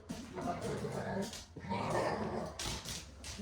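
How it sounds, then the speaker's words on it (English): A pet dog whimpers and gives short yipping barks in a home, mixed in with steady conversation from people talking throughout. "My dog. Hey, stop being crazy."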